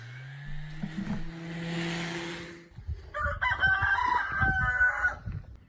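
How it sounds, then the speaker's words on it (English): A cockerel crows loudly in a long drawn-out call, followed by clucking and rustling with a brighter bird-like squawk. "that cockerel didn't help either"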